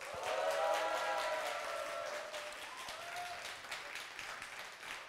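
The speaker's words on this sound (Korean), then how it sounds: "김총수한테 보냈던 박수의 3배 정도를 부탁드리겠습니다" An audience at a lecture hall talk applauds, a soft, continuous patter of many hands that peaks early and then tapers slightly, heard at a distance.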